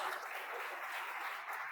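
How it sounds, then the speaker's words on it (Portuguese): A church congregation gives a steady wash of applause during a worship service, moderately faint and continuous with no talking over it. "Você pode aplaudir o nome de Jesus."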